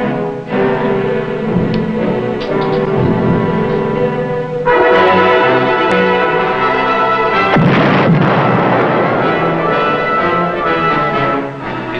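Submarine torpedo launch and explosion from the WWII submarine USS Guardfish, heard as a loud sustained rumbling blast with heavy low-end roar and rolling booms over about twelve seconds.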